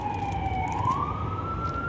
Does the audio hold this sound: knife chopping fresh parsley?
no